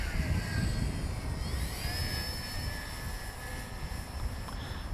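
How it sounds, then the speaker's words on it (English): Electric motor of a Bix3 RC model plane with a 2836 1100 kV motor, 40 amp ESC and roughly 9x6 prop, a steady whining drone with rising and falling pitch sweeps over rushing wind noise, continuous throughout. "Motor sounds much better."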